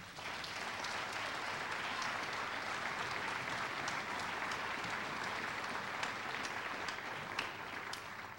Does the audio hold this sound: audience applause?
yes